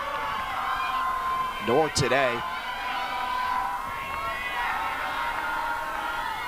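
A loud, lively crowd roars and cheers late in the fourth quarter of a women's college lacrosse game between Canisius and Marist, with a whistle cutting through partway and a commentator's voice running over the din.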